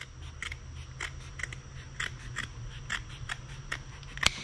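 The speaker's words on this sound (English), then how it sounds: "you're going to need to cut your felt, probably about 6 or 7 inches like this." Scissors snip through a strip of felt for a Subaru Forester window gusset repair, about a dozen quick, crisp cuts in a close, quiet, uneven rhythm.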